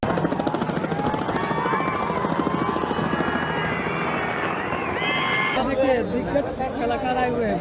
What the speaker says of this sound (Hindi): हेलीकॉप्टर से खेसारी लाल यादव उतर रहे हैं